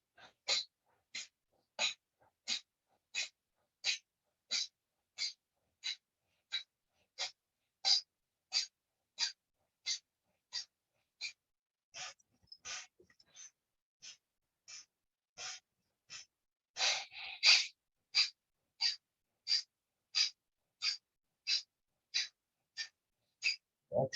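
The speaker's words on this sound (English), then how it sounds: "For the left side, forceful breaths now." Forceful short breathing bursts from a breathing exercise, done for the left side: about thirty sharp, evenly spaced puffs in a steady rhythm, close and alone, with one slightly rougher burst partway through.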